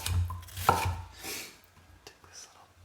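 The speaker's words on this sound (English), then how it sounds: "And then I'll chop the pepper into slices." Knife chopping a bell pepper into slices on a board for fajitas, a few close, sharp cuts with one distinct chop and softer scraping strokes, quiet room with faint low hum.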